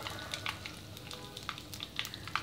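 Mustard seeds spluttering in hot oil while a cauliflower bhaji is prepared, a soft steady sizzle broken by scattered sharp pops and crackles, close and without talk.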